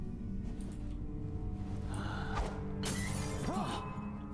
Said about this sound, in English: That sounded like broken glass.